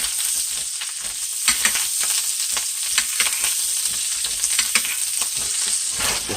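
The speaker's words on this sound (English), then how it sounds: "now you can take some of the butter and just kind of saute it this way" Veal sautés in butter in a hot pan, a steady close sizzle and spatter with rhythmic stirring and scraping strokes throughout.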